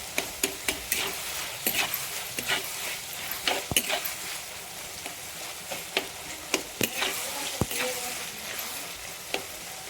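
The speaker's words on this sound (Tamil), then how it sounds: "வெங்காயம் தக்காளி வதங்கியாச்சு." Onions and tomatoes sauté in a pan for chicken kolambu with a steady close sizzle, while a spoon stirs and scrapes in frequent sharp clicks against the metal.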